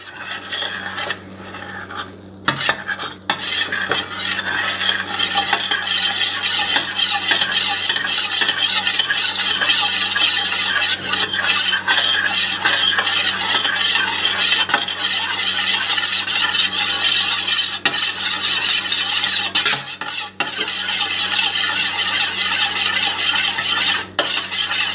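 A spoon stirs a cornstarch mixture in a bowl, scraping the bottom with a steady, continuous raspy rub and occasional clinks, loud and close throughout with no talk.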